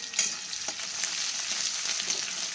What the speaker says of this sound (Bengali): পেঁয়াজটা দিয়ে একটু নাড়াচাড়া করে বাদামি রং করে নেব